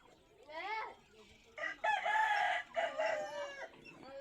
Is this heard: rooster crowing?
yes